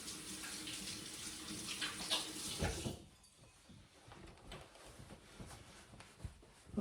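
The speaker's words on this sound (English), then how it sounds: "so just wash my hands off here." Water from a kitchen tap runs steadily as hands are rinsed at a sink while making flaky scones, a loud broadband rush that cuts off abruptly midway, leaving quieter faint drips and small clatters.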